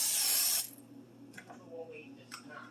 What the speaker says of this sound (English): And then we're going to spray the air fryer.